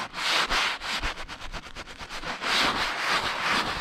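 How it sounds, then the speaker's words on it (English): A soft-bristle brush scrubs vinyl on a pop-up camper with Mold Armor cleaner, making a steady rhythmic swishing of gentle circular strokes, close and fairly loud, with no talking. "I'm just doing gentle circles"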